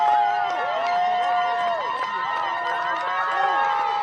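Crowd noise at an under-13 boys youth rugby league grand final, Point Chevalier Pirates playing, a steady dense roar of voices with whistle-like tones running throughout, a commentator talking over it.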